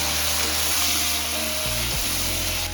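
Turmeric and spices being stirred in a hot frying pan with oil, giving a steady, close sizzle with broadband hiss and a few low clanks from the spoon, with no talking.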